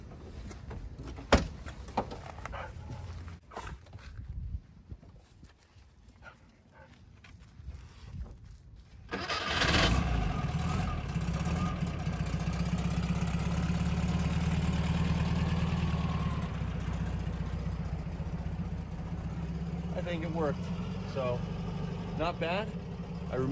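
1971 VW Westfalia bus engine with a newly replaced starter: after quiet shuffling and people talking, it cranks and starts, then settles into a steady, rumbling idle close by, with more talk near the end.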